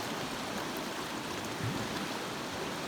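River water flows steadily at its source in Mark Twain National Forest, a constant broadband rush that stays even throughout with no voices.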